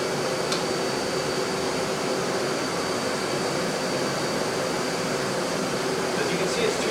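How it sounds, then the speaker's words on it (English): A power vacuum system for duct cleaning runs steadily throughout, a constant loud broadband roar with no change in pitch or level. "Turn on your power vac system."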